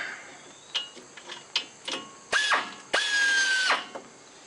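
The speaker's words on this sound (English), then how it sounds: "I'm gonna take that bolt out down there for the muffler." A ratchet works loose the muffler bolt on a Kawasaki Mule utility vehicle. Close, sharp clicking strokes come in short bursts, then two longer runs of rapid ratcheting.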